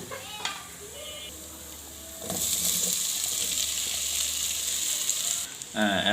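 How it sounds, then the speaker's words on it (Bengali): Oil hisses and sizzles loudly in a rice cooker as spices fry, after a quieter stretch, with brief stirring clatter and short bursts of nearby speech. "আমি যেটা মশলা দিয়েছি এটা ভালো ভাজা ভাজা হয়ে গেছে"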